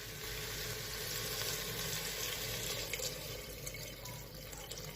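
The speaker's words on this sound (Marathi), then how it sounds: "आता गरम पाणी टाकणार आहे।" Hot water pouring into a pressure cooker of masale bhat, kolam rice and masala, a steady broad hiss and gush with bubbling sizzle, close and continuous throughout.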